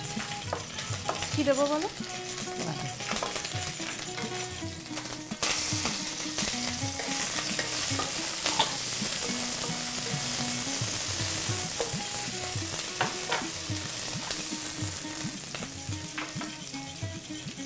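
Ginger garlic paste fries in a pan for an egg and eggplant dish, with a continuous sizzle and stirring clatter throughout. A voice briefly speaks over it.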